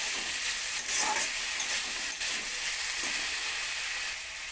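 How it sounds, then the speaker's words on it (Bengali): Potatoes frying lightly in a pan for a bean, pumpkin and potato curry, giving a steady soft sizzle with faint stirring scrapes throughout, close and continuous with no talk. "আলুটা আমি হালকা ভেজে নেব"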